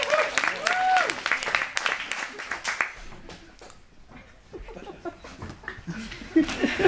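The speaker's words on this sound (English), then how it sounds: "Round of applause." Audience clapping and cheering before an improv comedy wrestling-match skit, a loud burst in the first three seconds that thins to scattered claps, whoops and chatter.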